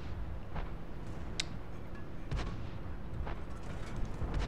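Booming shots from a G.W. Tiger (P) self-propelled artillery gun in World of Tanks, with several distant-sounding blasts and rumbling impacts scattered over a steady low battle background.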